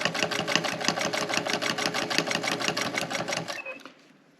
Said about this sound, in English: We're going to sew and keeping our fabric even on this raw edge with our presser foot.